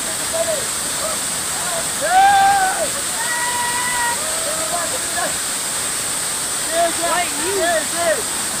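Fast-flowing cold river water at Jaflong in Sylhet rushes with a constant broad roar while people talk over it nearby.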